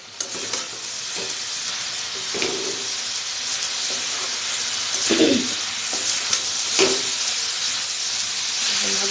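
Cabbage bhaji frying in a pan, with a constant close sizzle and hiss and a few louder scraping strokes as it is stirred.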